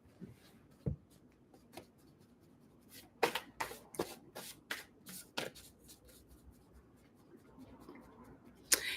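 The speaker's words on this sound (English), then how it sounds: "You're right, to shuffle them a little more." Angel oracle cards being shuffled by hand, soft papery riffles and slides in irregular bursts, some sharper flicks among quieter rustling, close and faint with no talk over it.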